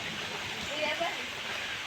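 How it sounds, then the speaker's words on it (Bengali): Steady rain falls during a flood, a soft, even hiss of drops on water and surfaces, continuous and moderately distant without breaks. "সকাল থেকে বৃষ্টি হচ্ছে"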